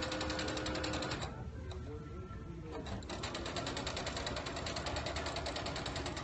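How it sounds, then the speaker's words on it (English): A sewing machine stitches fabric for a bow clutch without pins, a fast, even mechanical chatter running close and steady, pausing briefly before resuming. "I'm sewing without pins."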